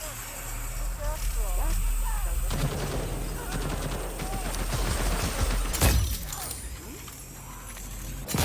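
Gunfire in the shooter Deathloop breaks out in a couple of sharp, loud bursts, one early and a heavier one later, while people talk excitedly throughout.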